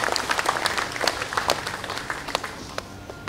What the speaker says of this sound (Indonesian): Tepuk tangan untuk Sekjen dan Bendum kita.